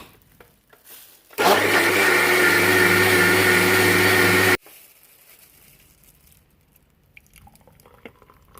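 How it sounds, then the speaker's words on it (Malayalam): An electric mixer grinder blends papaya shake with milk in a loud, steady whir lasting about three seconds, starting and stopping abruptly, with quiet room sounds before and after. "പിന്നെ നമ്മൾ മിക്സിക്കകത്ത് വെച്ചൊന്ന് അടിക്കാൻ പോവാണ്."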